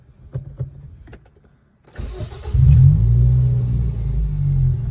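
A manual car engine turns over after a few soft clicks and a short pause, then settles into a steady, close low idle rumble with no talk.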